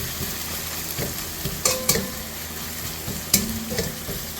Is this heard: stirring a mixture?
yes